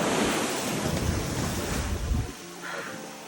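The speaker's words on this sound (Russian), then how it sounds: "здесь, конечно, очень сильный шум волн, и волны гигантские" Giant ocean waves crash and roar on a beach of Nusa Lembongan island, a loud, dense rushing surge with wind buffeting the microphone, the roar dropping off sharply near the end into a softer wash.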